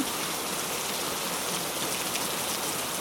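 Steady, dense rain pours outside during a thunderstorm, an even hiss with no pauses and no thunder standing out.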